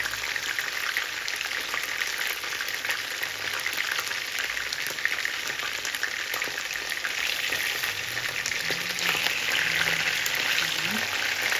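Chicken pieces sizzle and crackle steadily in a hot pan, a constant dense spitting hiss throughout with faint clinks near the end.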